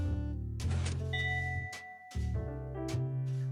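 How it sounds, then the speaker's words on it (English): A bright synthesized chime sounds in a Minecraft Dance Dance Revolution machine, sustained tonal notes with a couple of repeated onsets, clear and alone without voices. "after a few seconds, you'll hear a chime, and you'll know everything's reset"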